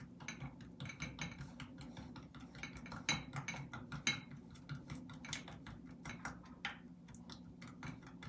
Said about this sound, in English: I'm just gonna finally mix all the ingredients together.